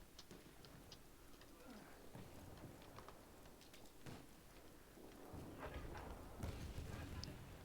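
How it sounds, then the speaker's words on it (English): Horse hooves clip-clop in the game Battlefield 1, a light, fairly steady patter of taps mixed with ambient game noise and growing slightly louder toward the end. "Oh, yep. There's a horse."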